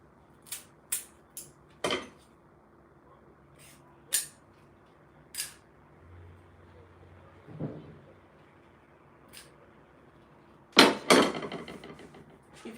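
Center dowel being driven into a stacked cake, sharp isolated taps spaced irregularly, a few quick knocks early, scattered single hits, then a louder cluster of strikes near the end, close and without talking.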